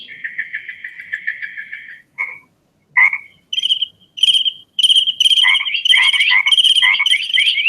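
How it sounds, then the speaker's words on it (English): Frogs in a Borneo rainforest call in bursts of rapid repeated croaks and trills, some overlapping as several animals join in, loud and close against a quiet background. "we're going to see how one frog talks to another frog at the same frequency"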